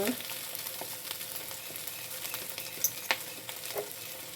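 Okra and egg stir-frying in a pan, a steady hiss of sizzling with occasional clinks of a utensil stirring, close and continuous.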